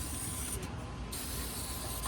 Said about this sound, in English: The bottom, spray it all over.